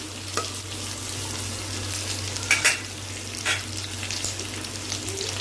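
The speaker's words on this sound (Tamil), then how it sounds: "கொஞ்சம் லைட்டாக லேசாக வதக்கி விடுங்க. இதை கொஞ்சம் ஃப்ரை பண்ணி அதில் சேர்த்தோன்னா நல்லாயிருக்கும்." Onion and green chilli sautéing in a pan for capsicum gravy, a steady close sizzle with a few sharper spits and stirring scrapes, no voices.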